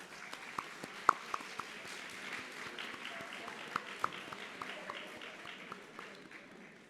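Audience applause fills a graduation ceremony hall, a soft, steady crowd clapping with a few louder, closer individual claps standing out and faint murmuring beneath.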